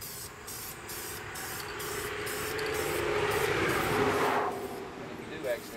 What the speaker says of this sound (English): We're going to work on getting the wheel itself painted.